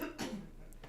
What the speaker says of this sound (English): As she's over there coughing